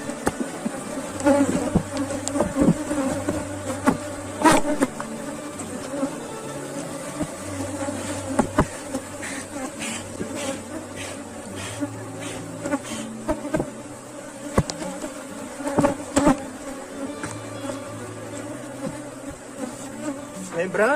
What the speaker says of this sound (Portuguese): o ideal é que eu transfira esse enxame que está nessa caixa para o núcleo